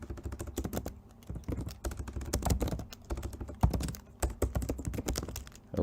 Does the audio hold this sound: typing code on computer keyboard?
yes